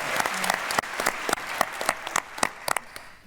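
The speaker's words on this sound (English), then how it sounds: "You can applaud that." Scattered audience applause at the PaleyFest LA 2024 Loki panel, a few sharp individual claps and light clapping from a crowd, fairly close, brief and thinning out.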